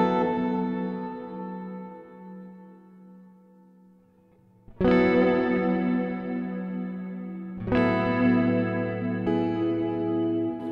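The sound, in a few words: hall reverb pedal effect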